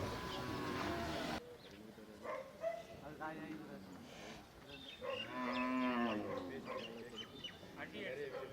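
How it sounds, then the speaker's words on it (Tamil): Kangayam cattle low at the busy Devakottai cattle market, one long, drawn-out moo rising clearly above the crowd noise while people talk nearby. "பால் மாடு நாட்டு மாடா காங்கயம் காங்கயம் மாடு"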